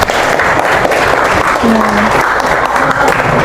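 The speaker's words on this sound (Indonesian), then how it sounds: "Ayo semangat, tepuk tangan." A seminar audience claps in sustained, dense applause throughout, loud and even, with a short spoken interjection and faint voices beneath the clapping.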